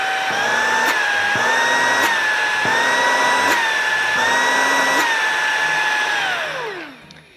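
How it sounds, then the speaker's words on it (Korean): An LG cordless stick vacuum cleaner runs loud and close, a high whining motor with rhythmic pulsing surges and clicks, then winds down and falls silent at the end. "제가 평상시에 집에서 메인 청소기로 사용하고 있는 무선 청소기인 LG 청소기를 가지고"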